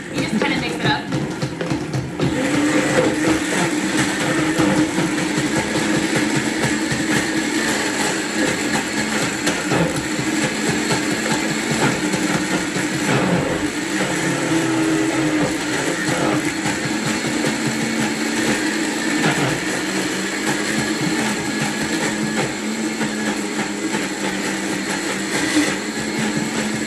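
A Vitamix blender runs at high speed mixing an acai smoothie, a loud, steady motor whine with churning that holds for the whole stretch, its pitch shifting slightly as the thick mixture moves, while a person talks over it.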